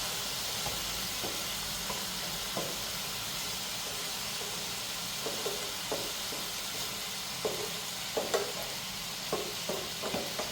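Pork burgers frying in a pan give a steady, quiet sizzle and hiss, broken by small pops and spatters that grow more frequent toward the end, with no voices over it.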